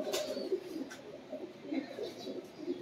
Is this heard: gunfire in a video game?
no